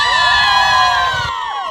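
A crowd of girls at an Adelaide Footy League Division 1 grand final cheers after a goal, high-pitched shrieks and whoops blending into a loud, close, sustained burst that eases slightly at the end.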